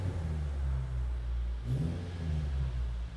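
A Morgan Plus 4 sports car engine turning over and running, a steady deep low rumble with a brief rise in revs midway, close and loud with no talking.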